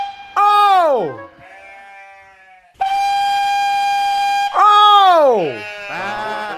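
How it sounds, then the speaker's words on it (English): Sheep bleat loudly nearby, giving several drawn-out calls that slide down in pitch, with a long, steady, whistle-like tone between them. "It's those blooming sheep again, thinking that they're a train."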